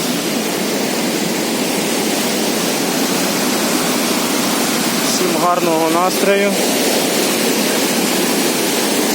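Steady broadband rushing of a fast-flowing mountain river, the Prut near Probiy waterfall in Yaremche in the Carpathians, loud and close, with a few seconds of voice briefly rising over the roar.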